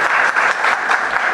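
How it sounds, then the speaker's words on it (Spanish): Loud, dense applause from a conference audience at a keynote lecture on organized crime, a steady wash of clapping filling the whole moment without pause. "Un fuerte aplauso, por favor"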